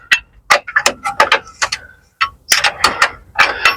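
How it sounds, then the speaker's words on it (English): A hand ratchet clicks in quick bursts while bolts are tightened on a Tesla Model X front control arm during suspension work, close and loud, with short pauses between runs of sharp clicks. "now I'm going to tighten up all the bolts."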